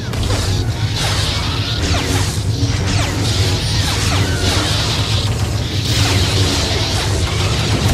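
Flamethrower blasts in a video game, a loud dense roaring rush with repeated surging whooshes over a constant mechanical din.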